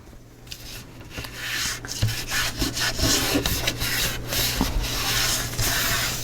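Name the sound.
cloth wiping away excess glue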